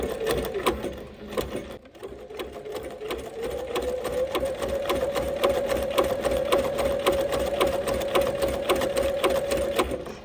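A sewing machine stitches down quilt binding in one long steady whirring run after a brief start, loud and close, with no voices.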